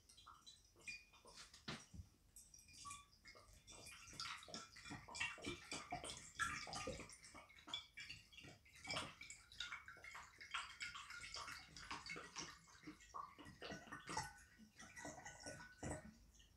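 40% vodka poured into a one-litre bottle, a steady splashing, gurgling liquid stream running close and continuous with small bubbling bursts and no voices.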